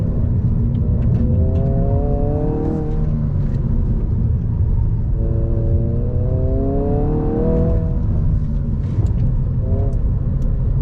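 A 2022 Honda Civic Si with front-wheel drive, driven hard, holds a loud, close engine drone from start to finish. Its pitch climbs through two distinct revving pulls with a shift between them.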